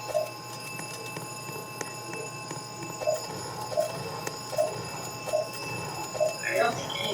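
Repeated bell-like chimes ring out at a steady pace in a Roblox game scene, moderately loud over a continuous busy background with faint tonal hum, about seven strikes spaced roughly every half second to second.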